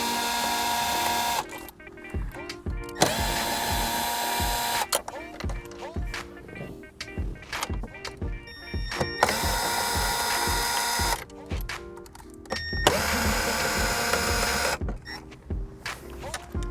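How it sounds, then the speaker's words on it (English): A handheld power tool ratchets out 10mm bolts holding the dash screen of a Toyota for an amp install, giving repeated loud buzzing whirs in bursts separated by short pauses, close to the microphone. "We have a little handy power tool here."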